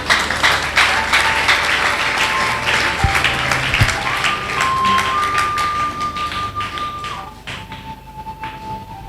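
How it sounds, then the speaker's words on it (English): A church audience claps in sustained, dense applause at a 2024 Galilee sermon, loud and continuous, with a held tone running through part of it before the clapping thins toward the end. "Did you clap your hand too?"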